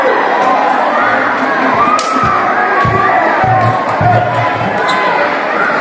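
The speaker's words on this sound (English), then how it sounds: "Grabe yung crowd. Talagang nagre-react." A crowd roars and cheers at an interbarangay basketball tournament game between Santa Cruz and San Rafael, with children shouting, loud and continuous, mixed with thudding ball bounces and an announcer talking over the noise.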